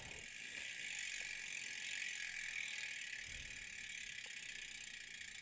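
A carbon fiber clincher aero bicycle wheel spins freely, its hub ratchet buzzing in a fast continuous high-pitched whir that holds steady throughout, close and fairly quiet.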